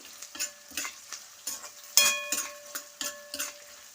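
Onions being stirred as they fry in a pan for Udupi-style tomato bath, with a steady sizzle broken by about eight rhythmic scraping strokes of a spatula, close and moderately loud, with no talking.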